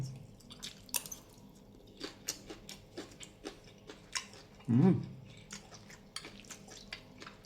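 Close, soft chewing of rice with braised pork leg, with moist squishy bites and faint clicks coming in an irregular rhythm, plus one louder smacking burst near the middle. No one speaks.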